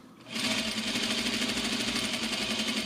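A sewing machine whirs into a fast, even run of stitches after a brief pause, sewing an exposed zipper into a garment, close and steady with a rapid mechanical buzz throughout.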